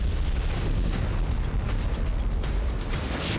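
A loud, steady low rumble with crackling pops from an explosion following an attack in Tartus, Syria, continuous throughout with no clear voices.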